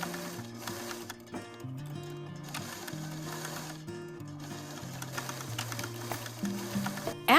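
A sewing machine stitches bias tape onto a pillowcase-style dress, giving a steady mechanical whirring with small shifts in pace, partly under soft background music.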